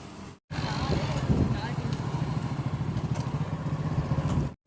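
A Hero Splendor Pro motorcycle engine running steadily on a trial run after a full service, a close, loud, even idle thrum with rapid regular pulsing that stops abruptly at the end.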